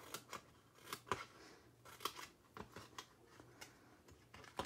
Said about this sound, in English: So we're going to cut these apart.